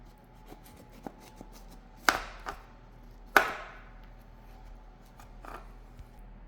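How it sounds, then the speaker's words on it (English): A knife cuts straight across a tray of pistachio baklava, giving two sharp crackling crunches of flaky pastry with a few lighter taps and scrapes in between, close up and without talk. "Now I'm going to cut it straight across"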